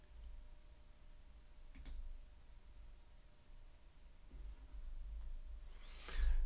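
A computer mouse gives two brief, faint clicks several seconds apart while someone works in business software, set against a low, steady room hum.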